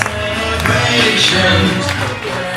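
Guests clap together at a Korean first birthday party (doljanchi) during the doljabi object-grabbing ritual, a dense, steady patter of many hands filling the room.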